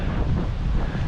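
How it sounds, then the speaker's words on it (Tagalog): Wind buffets the microphone at a hiking campsite in a steady low roar with uneven surges, heard close and loud with no voices. "pabugso-bugso yung hangin dito"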